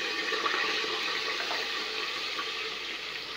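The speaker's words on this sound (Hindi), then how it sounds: "लहसुन अदरक और प्याज डाल देंगे।" Garlic, ginger and onion frying in hot oil in a pressure cooker, a steady close hiss and sizzle that holds even throughout with no speech.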